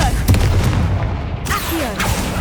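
A Confringo explosion spell is cast in the video game Hogwarts Legacy, giving a loud booming blast with crackling bursts over continuous game ambience and music.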